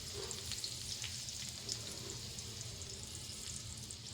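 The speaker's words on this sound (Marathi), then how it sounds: "थोडंसं परतू द्यायची लसूण आणि मिरची." Chopped garlic and green chili sauté in hot oil with a continuous, moderately loud sizzle, broken by occasional light stirring scrapes.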